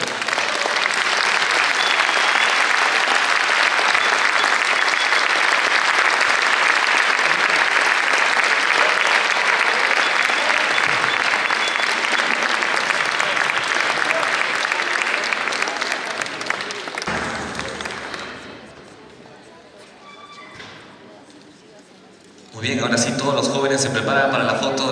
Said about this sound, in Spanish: Una vez más, los aplausos para ellos.